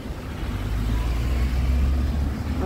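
Busy street traffic rumbles close by as cars pass in a continuous, loud low drone with engine noise rising and falling slightly, and no clear speech.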